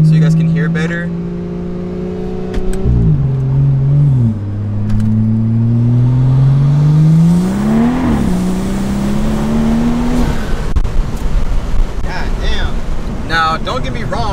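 A car with a new turbo accelerates hard, engine revving up through gears with pitch rising and dropping at shifts, loud and close with wind noise; a person talks over it.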